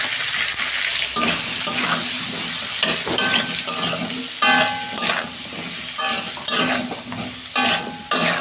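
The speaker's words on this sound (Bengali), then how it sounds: "পটলগুলো আমি একটু ভেজে নেব।" Pointed gourd frying in a pan with salt and turmeric, a loud, close sizzle with crackling and repeated scraping stirs from a spatula, continuous throughout without talk.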